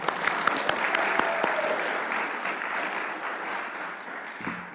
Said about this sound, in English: Let's give Kristen a round of applause, even though she's not here.